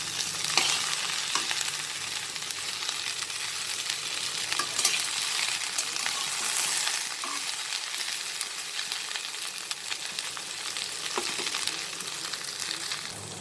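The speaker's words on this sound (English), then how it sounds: "I'll just cook it like this, frequently just stirring it" Okra, or lady's fingers, fry uncovered in a pan while being stirred often: a constant bright sizzle with repeated scraping and clinking of the spoon, close and moderately loud, no talking.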